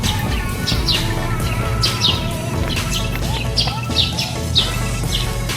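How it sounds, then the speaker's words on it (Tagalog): Many birds chirp and tweet in a busy, overlapping chorus, with repeated bright calls over a steady low background hum. "ang ingay ng mga ibon no?"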